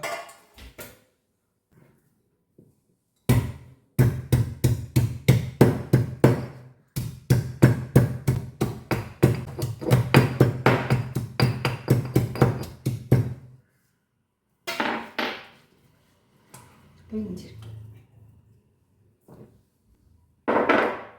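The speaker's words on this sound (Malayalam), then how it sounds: "ഇഞ്ചി ഒന്ന് ചതച്ചിടാം കേട്ടോ" Ginger is crushed for an ivy gourd fish curry with tomato, green chilli and curry leaves, a long run of rapid, sharp pounding strikes close by, then a pause and a few scattered knocks and scrapes.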